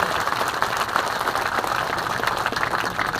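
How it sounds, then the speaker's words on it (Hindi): A crowd at a public event in Rewa applauds to welcome a speaker, sustained hearty clapping from many hands, close and fairly loud, with individual claps popping through the dense wash. "एक बार जोरदार तालियां बजा के उनका स्वागत करने का अभिनंदन करें"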